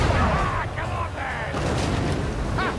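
Cannon fire in the Warhammer Vermintide II video game, a deep booming blast with a crackling tail, heard amid a busy game mix with voices talking over it.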